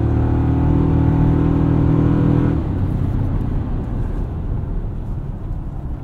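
Engine of a 2024 Toyota Tacoma pulling hard on a winding back road, a loud steady drone with layered harmonics that drops into a rougher, broadband road-and-engine roar midway, with no talking.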